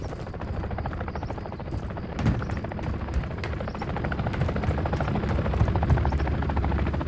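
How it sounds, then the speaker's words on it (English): Attack helicopters in the Call of Duty Modern Warfare III video game, a continuous rapid rotor chop at moderate level with occasional distant booms and gunfire mixed in. "Attack helos dug in."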